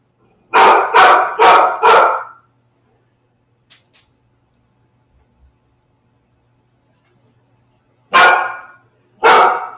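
Puppies bark in a quick burst of four sharp yaps, then quiet with faint knocks, then two more loud barks close by near the end.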